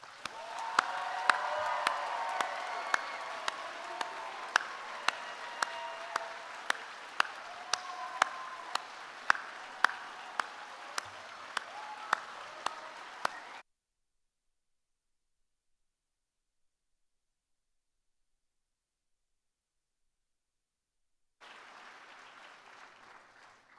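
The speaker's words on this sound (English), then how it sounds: "please join me in congratulating the UTRGV School of Medicine Class of 2030 with a warm round of applause" Audience applause at a medical school white coat ceremony for the UTRGV School of Medicine Class of 2030 rolls on steadily for about thirteen seconds, dense and sustained with sharp individual claps standing out, then stops into silence before a fainter stretch of clapping returns.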